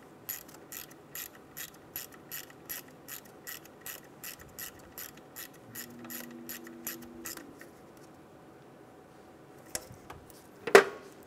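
A ratchet wrench clicks in a fast, even run as a bolt is snugged down on a Nissan Altima engine during exhaust manifold work, close and quiet, then a couple of sharp metallic knocks at the end.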